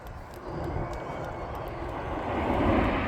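Red Arrows jets flying past in Big Vixen formation at an air festival, a steady rising roar of engines building louder toward the end, with an announcer faintly under it.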